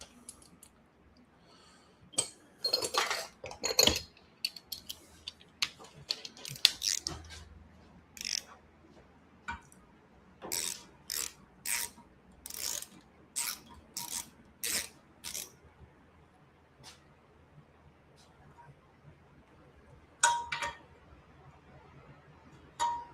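A hand tool cranks down on aluminum threads in a workshop, producing faint, irregular bursts of sharp ratcheting clicks and metallic clinks separated by quiet gaps.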